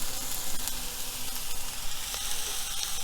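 A pan of vegan tofu scramble sizzles steadily and loudly up close, a continuous hiss with faint scraping as it is stirred, no talk.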